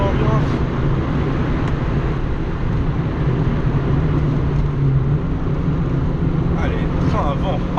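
A Peugeot 205 GTI youngtimer hot hatch drives along with a steady, droning engine note heard from inside the cabin, running loud and continuous with road and wind noise throughout.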